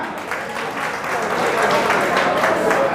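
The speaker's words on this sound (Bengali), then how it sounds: "আপনারা কি এর জন্য তাদের একটা হাততালি দেবেন না" An audience claps at the third state conference in Cooch Behar, a steady, dense wash of applause that holds for the full few seconds without pause.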